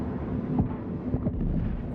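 A deep, low rumbling blast from a recurring explosion in the video game INSIDE, heavy and booming with muffled thuds rolling through it, steady and without talk.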